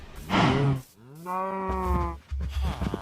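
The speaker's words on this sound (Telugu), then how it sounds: "ఇంట్లో ఆవులు ఉన్నాయంట్రా?" Cows in the video game Minecraft, played with the Cobblemon mod, give a couple of close, clear moos, one long drawn-out call in the middle between shorter game sounds.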